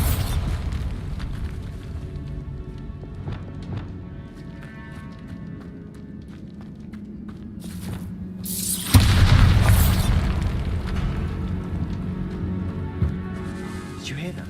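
A magical Bombarda blast in Hogwarts Legacy, set inside a tomb, erupts as a sudden loud booming burst with a short rumbling tail against quiet ambient game sound and talk.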